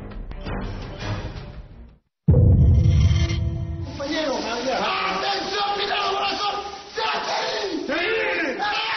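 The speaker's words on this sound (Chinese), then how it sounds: "早上，震耳欲聋的欢呼声在地上和地下同时爆发。" Deafening cheers erupt together above and below ground as drilling breaks through at a mine rescue site, a loud roar of crowd yelling swelling after a brief pause and carrying on with mixed shouting voices.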